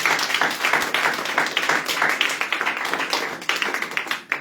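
A church congregation claps to acclaim the Lord during a French-language sermon, with dense, continuous hand claps and taps at a lively, steady pace and no talking.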